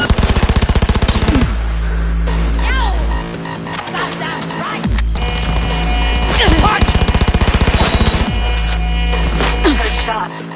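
Rapid automatic gunfire from the Cyberpunk video game, played on a PS5 Pro, rattles loud and close in long sustained bursts with short pauses between them, under dense game sound.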